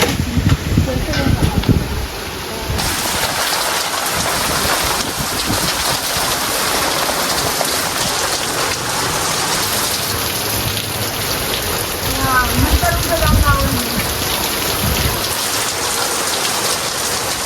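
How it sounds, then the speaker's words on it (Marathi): Heavy rain pours down steadily, a loud dense hiss of drops hitting surfaces, with people talking intermittently over it. "जोराचा पाऊस आले"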